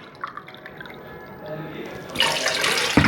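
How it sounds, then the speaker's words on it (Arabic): Warm water poured into a bowl for sandwich bread dough, starting as quiet drips and trickles and then swelling into a brighter, steady splashing pour near the end. "انا راح ندير 2 كيسان تاع الماء"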